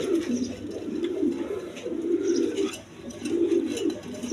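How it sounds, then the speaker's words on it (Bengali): Magpie pigeons coo in a steady run of soft, throaty phrases that rise and fall in repeated pulses, close by, with faint chirps in the background. "এইখানে এক পেয়ার ম্যাকপাই কবুতর আছে"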